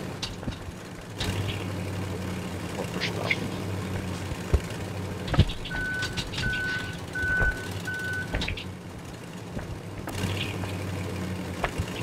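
Truck reversing beeps in the physics game Human: Fall Flat, a steady series of evenly spaced electronic tones over low engine rumble and game ambience, with no talking.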